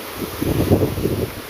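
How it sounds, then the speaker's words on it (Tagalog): Soft wind gusts buffet the microphone with a low rumble, brief and fairly steady, with no voices. "Sarap ng hangin."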